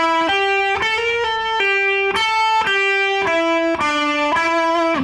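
A slow electric guitar riff, about a dozen distinct picked notes at an even, unhurried pace, with a lightly driven tone and no talking.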